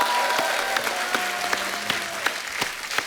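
A studio audience on a Hindi talk show gives Amit Kumar a round of loud, steady applause, with a dense wash of clapping and a few sharper individual claps standing out.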